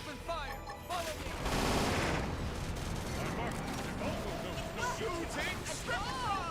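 Battle gunfire in the video game Xenoblade Chronicles X, a dense fusillade of shots and blasts rumbling under combat shouts and energy effects, moderately loud and continuous, with voices calling out over it.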